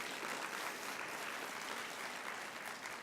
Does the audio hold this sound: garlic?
no